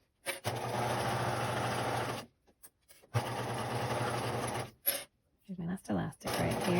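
A sewing machine stitches elastic onto a fabric face mask made to cover an N95, running in two long steady bursts with a high whine, then a few short stuttering runs separated by brief pauses.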